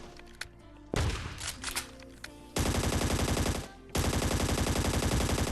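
Gunfire in the mobile shooter Scarfall 2.0: a sharp shot, then two long, loud bursts of rapid automatic fire, close and dense, with short pauses between them.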